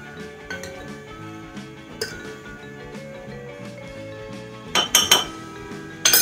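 A metal spoon scoops maida flour from a bowl, giving light clinks and taps of spoon against the dish, scattered and quiet at first, then a few sharper, louder clatters near the end.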